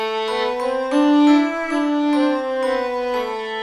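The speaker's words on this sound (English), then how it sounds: "So we had an accordion, we had a violin, a flute, and a glockenspiel" A bright layered retro video game Christmas melody of sustained accordion and violin tones with flute and chiming glockenspiel notes, played together in steady phrases, no voices.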